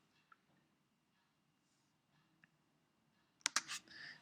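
Keyboard shortcut key presses on a computer, a couple of faint isolated clicks followed by a louder quick burst of taps near the end, close up in a quiet room.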